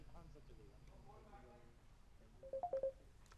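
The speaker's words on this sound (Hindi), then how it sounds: "आपका फोन रिंग कर रहा है।" During a televised phone-in debate, a faint voice talks first, and then a quick series of four soft electronic telephone beeps sounds quietly under a low background murmur.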